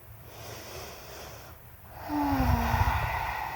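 A slow, deep breath in a yoga relaxation session, a soft airy exhale rising to a fuller, slightly rough breath, close and quiet with no talking.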